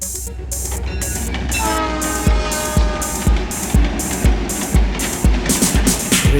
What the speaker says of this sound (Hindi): रे से रेल चली अपनी, जोर से सीटी देती हुई।